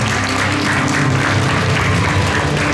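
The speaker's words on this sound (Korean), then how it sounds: "여러분 박수 한번 주시면 감사하겠습니다." At a volunteer group founding ceremony and senior model contest in Chungbuk, the audience claps. The sound is a dense, continuous roar of many hands over a heavy low background hum, loud and unbroken throughout.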